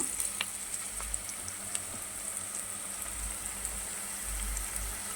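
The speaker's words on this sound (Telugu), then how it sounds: "కొంచెం మ్యాంగో కూడా బాగా ఫ్రై అయితే బాగుంటుంది టేస్ట్గా" Mango pieces frying in a pan, a steady, fairly quiet sizzle with faint crackles and occasional stirring noises, no voices.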